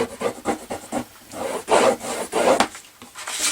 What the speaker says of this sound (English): so just take your time again, really burnishing down.